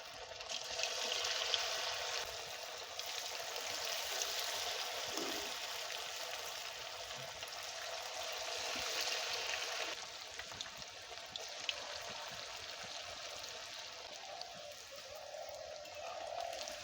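Marinated chicken pieces for chilli chicken fry in hot oil in a wok, giving a steady, even sizzling hiss that carries on unbroken with only slight swells and no talking.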